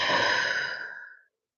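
A single long, breathy exhale during a spine-decompressing stretch, close and soft, fading out over about a second.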